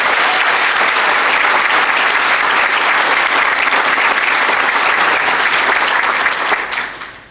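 Sustained applause fills the room at a police officer of the year ceremony. It holds loud and dense throughout, then tapers off at the very end.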